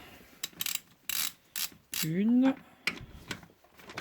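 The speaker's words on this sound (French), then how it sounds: "Là, on va pouvoir desserrer les vis." Screws being loosened on an Austin Mini gearbox: a series of short, close ratcheting and clicking bursts in an irregular rhythm, with a brief spoken word partway through.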